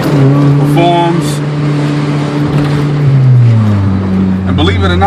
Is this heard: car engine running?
yes